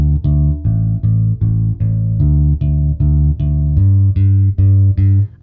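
Kala striped ebony U-Bass bass ukulele with round wound metal strings, heard through its piezo pickup as a steady run of plucked low notes, evenly spaced and loud, each ringing until the next with no talking.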